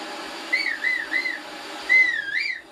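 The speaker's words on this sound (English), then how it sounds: "with that, a motivating whistle" Link whistles in Zelda: Breath of the Wild on the Nintendo Switch, with several short rising-and-falling whistled phrases. They come clear and fairly loud over a quiet game background, with a brief pause in the middle.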